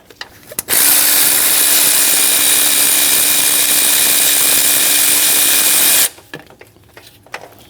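A power tool spins a belt tensioner bolt out on a Chevrolet Express van, giving one loud, steady high whine for about five seconds between quieter clicks and handling noises.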